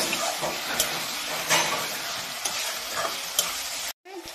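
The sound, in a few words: chicken and potato frying together in a pan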